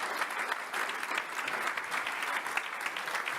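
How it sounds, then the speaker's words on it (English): Sustained audience applause welcoming a guest onto the stage at an event on people and AI, a dense, steady wash of many hands clapping throughout with no voices on top. "a big round of applause, please"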